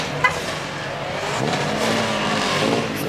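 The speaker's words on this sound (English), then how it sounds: "These Hellcats can't stop revving their cars." Dodge Hellcat cars revving their engines at a car show, a loud continuous roar of engine noise with rising revs and a brief sharp burst near the start.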